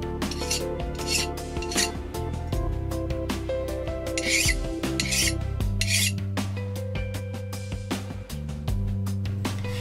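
A hand file rasps across a machined metal part, deburring a piece of a pinion head depthing tool in a home machine shop; steady close scraping strokes over a busy, ringing workshop background.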